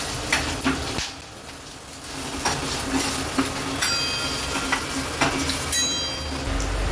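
Asafoetida and turmeric being stirred into a hot tempering in a pan, with repeated scraping strokes of a spoon over a constant low sizzle, close and fairly loud.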